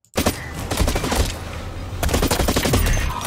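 Rapid automatic weapon fire in the sci-fi shooter Blacklight Retribution tutorial, with loud continuous bursts of shots, a short pause near the middle, then another sustained burst.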